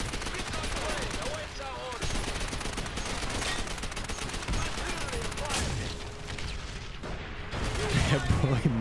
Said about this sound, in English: Vendetta calls in a very clutch artillery strike